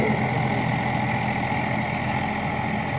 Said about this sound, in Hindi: देखो खेत में चल रहा है रीफर